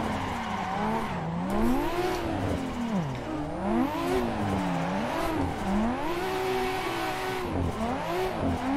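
A car spinning first-gear donuts in a multiplayer driving game, the engine revving continuously with rising and falling whine while tires squeal and skid in looping sweeps, steady and loud with no talk.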